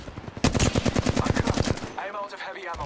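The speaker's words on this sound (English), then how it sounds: "The enemies are shooting at me." Rapid automatic enemy gunfire from the Apex Legends video game, a dense burst of about a dozen close, loud shots in quick rhythm, trailing off into a fainter, higher electronic whine.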